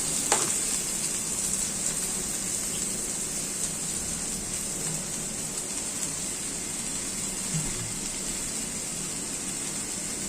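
Bitter gourd, potato, onion and green chili frying in a pan give a steady, even sizzle that holds at a constant level throughout, with a faint stirring clink near the start.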